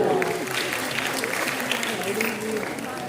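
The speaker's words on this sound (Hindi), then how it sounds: "एक बार जोरदार तालियां बजाइए।" A crowd at an International Women's Day event applauds steadily and loudly throughout, with a voice speaking over the clapping.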